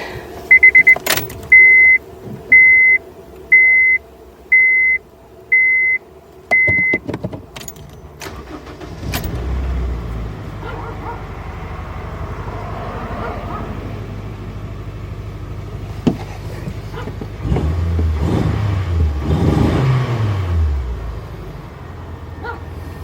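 Honda Fit with an electrical fault starts up after a run of evenly spaced beeps, then its engine idles roughly with a low uneven rumble that swells and wavers toward the end.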